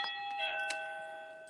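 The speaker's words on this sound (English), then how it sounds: "That was my doorbell." An electronic home doorbell chimes with a clear, sustained tonal ring and a couple of faint clicks, heard once, fairly quiet and slightly distant.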